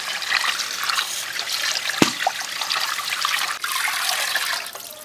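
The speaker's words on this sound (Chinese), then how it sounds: "把这泡泡啊冲掉，这样到时候吃起来干净一点" Tap water runs steadily over boiled beef bones to rinse off foam, a close, continuous splashing stream with small trickles and one brief clunk partway through.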